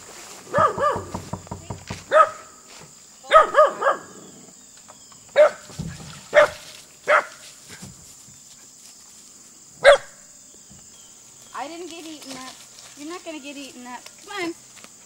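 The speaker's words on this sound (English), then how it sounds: "She's barking at our wheelbarrow." A Norwegian Elkhound barks repeatedly at a wheelbarrow outdoors, sharp spaced barks in irregular bursts, then higher whiny yelps toward the end, close and loud over a faint insect drone.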